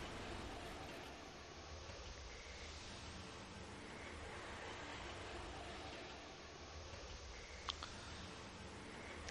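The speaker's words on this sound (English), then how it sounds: "And we're gonna take a train to Dead Dunes from there." A train ride toward Dead Dunes in the video game Lightning Returns: Final Fantasy XIII produces a steady, broad rumbling roar that holds evenly throughout, with a faint metallic tick near the end.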